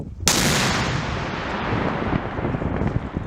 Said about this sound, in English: let's look at an old-timey gun, in particular the Vassar cannon, or at least the recreation that was used here